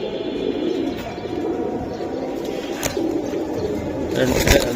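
Good-quality pigeons, among them Giribaz and homers, coo steadily and continuously at close range, a soft layered murmur from several birds at once with no voices over it.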